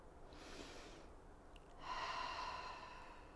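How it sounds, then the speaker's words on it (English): A deep breath during a yoga flow: a soft, close inhale followed by a longer, airy exhale through the nose, quiet against faint room noise. "Let's take one more breath."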